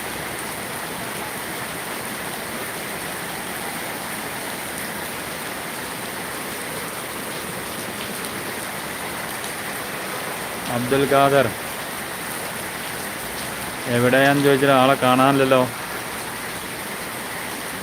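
Heavy rain pours down steadily during a church feast, a dense, even hiss that fills the whole stretch while someone speaks briefly twice near the end.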